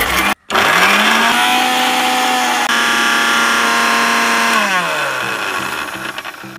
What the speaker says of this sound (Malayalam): നമുക്ക് മിക്സി ഓൺ ആക്കി എല്ലാം സെറ്റ് ആക്കിയിട്ട് കാണിച്ചു തരാം കേട്ടോ.